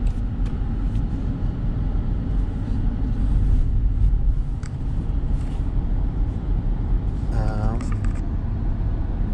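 Land Rover Defender engine rumbling under launch acceleration on a test drive, a steady low cabin drone with road noise, and people talking over it.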